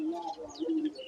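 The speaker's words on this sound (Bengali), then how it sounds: "এখানে আবার কবুতর আছে।" A pigeon at a village home in Banshkhali, Chattogram, gives a short, soft coo close by, a low murmuring call over quiet background.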